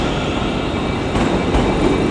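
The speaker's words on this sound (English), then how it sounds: "departing now is a Scotrail Class 380" Scotrail Class 380 electric train departing Glasgow Central station, a steady broadband rumble and hum of the moving train throughout, with a couple of faint clunks over the rolling noise and no talking.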